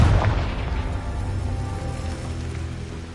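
A Confringo fire spell bursts in Hogwarts Legacy, a single loud, deep boom at the start that decays into a long rumbling tail.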